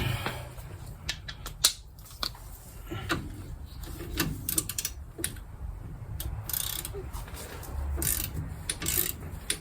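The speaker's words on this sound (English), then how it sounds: "Now we got our big ratchet." A big ratchet works on a front strut of a 2002 Acura TL Type S, giving close, rapid metallic clicking in short uneven bursts against a steady background hum, without speech.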